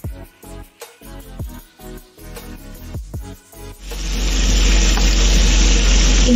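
Cumin seeds and asafoetida hit hot cooking oil, bursting into a loud, steady sizzle that holds to the end after a few seconds of scattered clatter and knocks.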